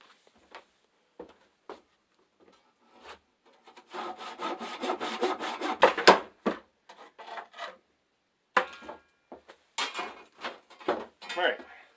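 A handsaw cuts through a wooden log limb at a steep angle, bevelling its end: a dense run of back-and-forth rasping strokes builds up mid-way, framed by scattered knocks and short scraping bursts nearby.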